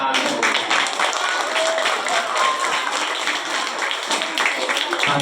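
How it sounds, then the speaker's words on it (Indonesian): An audience claps hands at a visit to an Islamic boarding school, a steady round of many people applauding together, fairly loud and close, with a few louder individual claps scattered through. "tepuk tangan dong."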